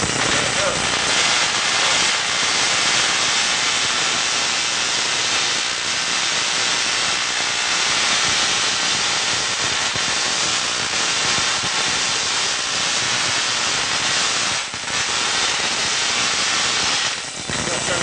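Tesla coil firing continuously, a loud, dense crackling spark roar that fills the whole stretch without pause, with brief dips near the end.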